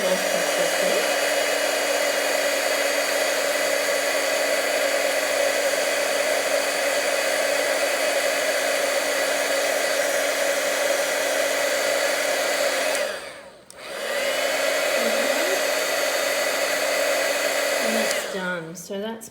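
A heat tool used for heat embossing a stamped card blows a loud, steady whirring hiss that runs nearly the whole time, cutting out briefly once before starting again.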